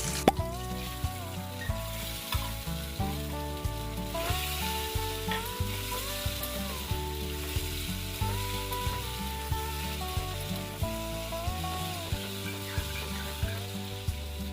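Sabudana stirred in a hot pan with salt, a soft frying sizzle under regular spoon scrapes and taps, while steady background music plays throughout.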